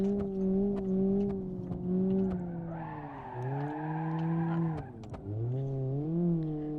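Bruckell LeGran SE Convertible engine in BeamNG.drive, a strained tonal drone that rises and dips with throttle over several seconds, joined by a squealing tire-like whine in the middle, heard alone without talk.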